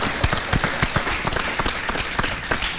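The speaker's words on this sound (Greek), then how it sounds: "Δώστε λοιπόν ένα ακόμα χειροκρότημα" A theatre audience claps in a dense, steady burst of applause for about three seconds, individual hand claps standing out sharply against the continuous wash.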